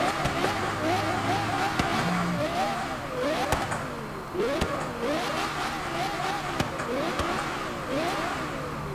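Loud V10 car engine, the front-engine version of a Carrera GT-like car in Forza Horizon 4, revving and climbing through rising and falling pitch sweeps, with a lower burbling idle beneath and people talking over it.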